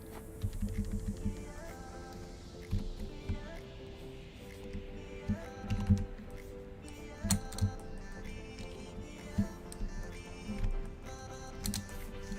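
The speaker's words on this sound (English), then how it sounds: "I have a new keyboard, so I'm getting used to my keyboard" Keystrokes on a new computer keyboard come in irregular bursts of soft clicks and taps over a faint background hum, fairly quiet, with no talk.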